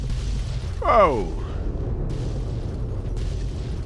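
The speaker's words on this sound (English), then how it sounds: "Nice explosion" An explosion in the video game Fallout 3 bursts loudly at about one second with a falling, whooshing tail, over a steady game background, and a voice exclaims briefly.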